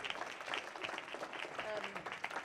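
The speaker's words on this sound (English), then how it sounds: "So could we just give them a round of applause?" Audience applause for the sound crew and caterers at a gala in Vellore, a dense steady patter of many hands clapping through the whole stretch, moderately loud with some crowd murmur mixed in.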